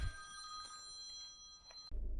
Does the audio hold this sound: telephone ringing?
yes